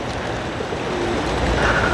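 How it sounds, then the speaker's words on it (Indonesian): Pigeons in Saudi Arabia coo softly and low beneath a steady outdoor wash of ambient noise, faint and somewhat distant with no talk. "Biasa di Arab Saudi itu banyak merpati ini nih"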